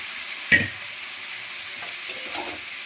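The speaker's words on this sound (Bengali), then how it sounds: "আর এদিকে আমি ডিমগুলো ভাজছি ভালো করে" Chicken eggs fry in a pan with a faint, steady sizzle, broken by two sharp utensil clinks and a soft scrape.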